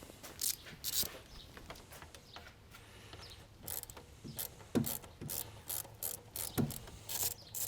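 A hand ratchet clicks in quick, uneven bursts while loosening a 7 mm bolt on the water pump of a Buick Encore / Chevy Trax, close and fairly quiet with small metallic knocks between strokes.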